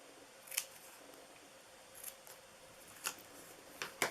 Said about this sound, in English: we're probably going to end up cutting them shorter